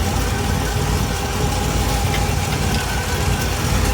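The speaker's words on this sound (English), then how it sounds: "A little more idle would do it fine." A 1964 Buick LeSabre engine idling, a steady, loud, close rumble with a dense low-end throb that holds unchanged throughout.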